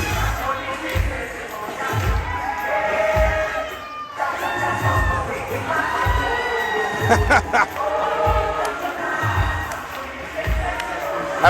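A sold-out wrestling crowd at a Coastal Championship Wrestling live event cheers and shouts on its feet, a loud, continuous roar with rising whoops, while commentators talk over it.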